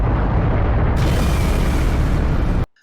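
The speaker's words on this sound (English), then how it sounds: "we both would blow ourselves to smithereens in a gigantic nuclear explosion" A gigantic nuclear explosion sound effect: a loud, dense rumbling roar with a sudden burst of added crackle partway through, sustained before cutting off abruptly into silence.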